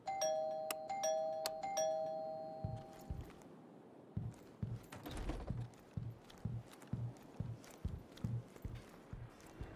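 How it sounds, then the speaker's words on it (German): A doorbell in the video game Deathloop chimes several times in quick succession, clear ringing tones, followed by a steady run of footsteps walking away. "Da hat das Ding eine Klingel."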